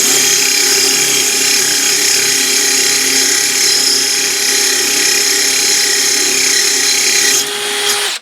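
A power drill whines continuously at high speed with a gritty grinding edge while drilling through a glass vase with water on the hole, loud and close, cutting off abruptly at the end.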